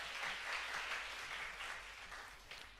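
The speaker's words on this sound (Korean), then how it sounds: "박수 한번 쳐주세요" Sustained applause from a church congregation during a Sunday worship service, steady and even for the whole stretch, with no talk over it.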